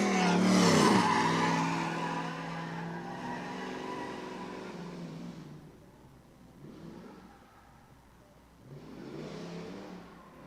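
A stiff-suspension Lexus with an automatic gearbox drifting at a stunt show screams loudly at high revs with squealing tires, then fades and surges again in a couple of further passes, with no talking.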